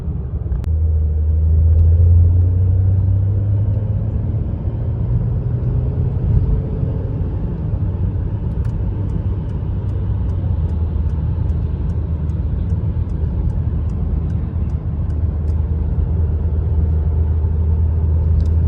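Interior drone of a Citroën C6 3.0 V6 HDi cruising on a long-distance drive across France, a steady low engine and road rumble that stays constant and fairly loud, with no voices.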